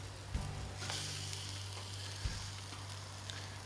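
A fish fillet frying in a pan gives a steady, fairly quiet sizzle, broken by two brief scraping knocks as it is flipped.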